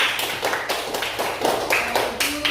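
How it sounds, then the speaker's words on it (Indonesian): Children clap in a classroom in a few uneven bursts, fairly close and moderately loud, with brief gaps between the volleys. "Oke, kasih tepuk tangan dulu."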